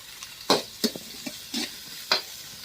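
Onions, garlic and green chillies frying in a pan for a South Indian fish curry, with a few sharp stirring scrapes and bursts of sizzle over a quiet hiss.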